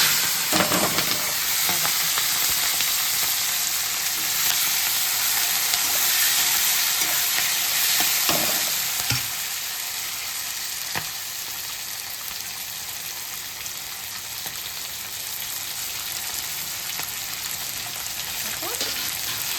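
Steady frying sizzle and hiss from a pan of yardlong beans, green chillies, potato and onion, continuous throughout, with occasional clinks of a utensil stirring close by.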